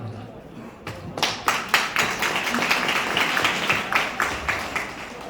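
Audience applause at a ceremony, a run of sharp, fairly loud claps that starts sparse and settles into an even, continuous clapping.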